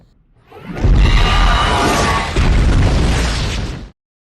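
A grenade explosion in a monster film, thrown into the monster queen and her guards, rising into a loud, roaring blast that rumbles for about three seconds and then cuts off sharply.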